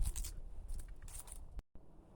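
Hand scissors snip through a boxwood shrub in quick, faint bursts of crisp cutting and rustling leaves, followed by a short silence and a few softer snips.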